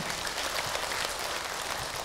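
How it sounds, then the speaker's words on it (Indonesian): Congregation of women at a religious talk applauding, a brief dense patch of many hands clapping, steady and fairly close, with no speech over it. "tepuk tangan Ibu untuk Hilman"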